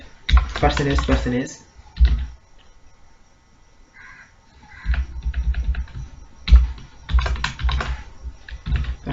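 Typing C code on a computer keyboard in bursts of rapid key clicks, with long pauses and a louder cluster near the end; no speech over it.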